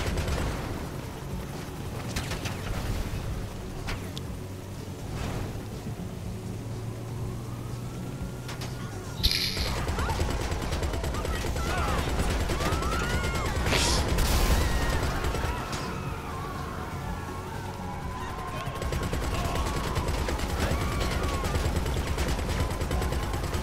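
Bursts of gunfire crackle through a Grand Theft Auto V police chase, with police sirens wailing and car engines running under steady game noise, and a player talking over parts of it.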